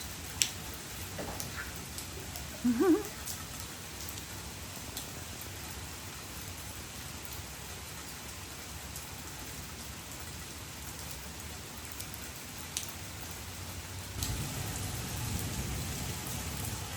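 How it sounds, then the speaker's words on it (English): Steady rain falls in Sydney in foggy weather, a constant hiss of drops on surfaces with a few louder taps. It is heard alone, with no speech. "we just get to enjoy a little bit of rain as well."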